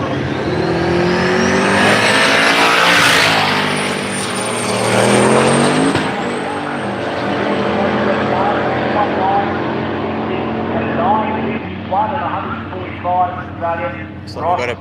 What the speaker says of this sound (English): Daniel Ward, Turbo LS on board with the Valiant.